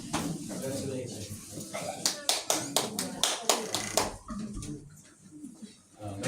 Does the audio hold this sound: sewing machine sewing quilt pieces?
no